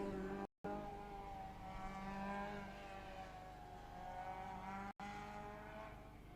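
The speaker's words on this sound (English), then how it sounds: "An unusual rally car, you don't see many of them, but going very well. Sounds great as well." A rally car engine drones steadily at high revs on the Mull Rally, the pitch rising and falling as the car drives on, with no voices.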